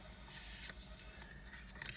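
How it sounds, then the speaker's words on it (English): An aerosol can sprays cleaner into a car's air conditioning vents, giving a faint continuous hiss with a few short pulses. "we're basically just spraying the aerosol from the can into the vents"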